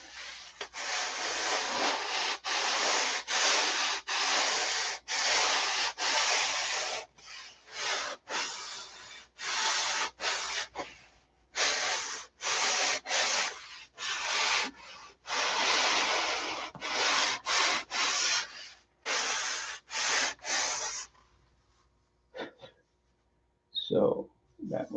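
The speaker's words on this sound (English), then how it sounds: "I'm going to sand a slight angle on this" Sandpaper is rubbed back and forth along a long wooden model aircraft wing to bevel an angle, making loud, close, rhythmic rasping strokes in bursts with brief pauses, then a few softer knocks near the end.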